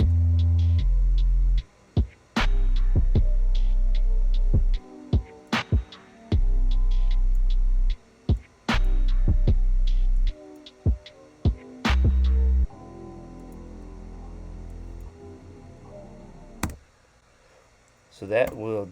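A hip-hop beat built in FL Studio 20 from a chopped double-time loop with the high end cut. Heavy sub-bass pulses and sharp percussive hits play in a choppy pattern, then thin out into a quieter, sparser ending.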